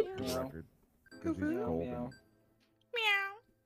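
A person in the game Goose Goose Duck mimics a cat with three drawn-out meows, the last one short and higher, separated by quiet pauses.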